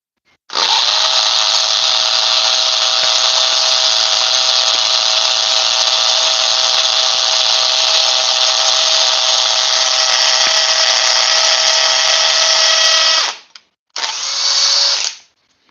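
A Bosch rotary hammer drills into concrete with a loud, steady, grinding roar that lasts about thirteen seconds, stops briefly, then gives one more short burst.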